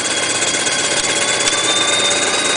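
A small DC motor hums in a Jensen 51 replica, a steady close mechanical whir with a slight rattling vibration throughout.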